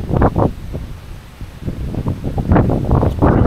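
Wind buffeting a camera's built-in microphone outdoors at a campout, with the external mic removed: loud, rumbling low gusts that surge and fade in uneven bursts, with no speech.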